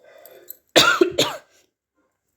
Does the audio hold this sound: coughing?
yes